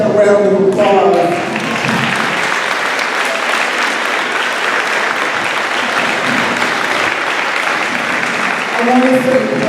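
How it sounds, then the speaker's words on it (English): An audience at a farewell event for Ms. Caswell applauds a picture with sustained, loud, dense clapping lasting several seconds, with voices heard briefly at the start and again as it tapers at the end. "Give that a round of applause."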